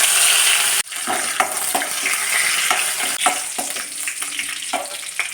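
Curry leaves and dried red chillies fry in hot coconut oil after mustard seeds have popped, for a tomato curry. A loud steady sizzle runs throughout, with a sharp burst at the start and repeated stirring scrapes, and no voices.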